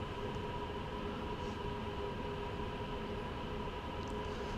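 Steady rumble of a BR 187 electric locomotive running on rails in Train Sim World 2, with a constant low drone and an even hum that holds throughout.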